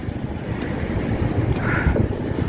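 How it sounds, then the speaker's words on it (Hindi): Steady wind blows hard across the microphone outdoors in Vashi, a continuous roaring rumble with gusty low-end buffeting throughout, no talking. "मस्त हवा चल रही है इधर तो"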